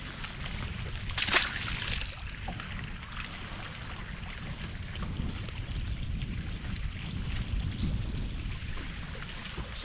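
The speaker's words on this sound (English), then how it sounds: "So the wind has really come up" Strong wind gusts across Lake Lanier on a fishing boat, a constant low rumbling buffet with faint water sloshing and a brief rattle early on.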